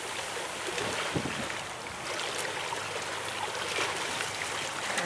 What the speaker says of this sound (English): There's whitecaps on the river out here.